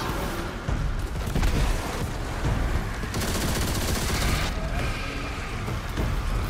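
An exotic explosive weapon in Destiny 2 fires four shots at once, giving dense, continuous booming and rattling blasts that stay loud throughout with brief dips between volleys.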